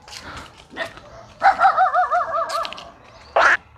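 A dog in a rural village gives a run of close, loud barks and yelps, with a short pause before one more sharp bark at the end, against quiet outdoor background.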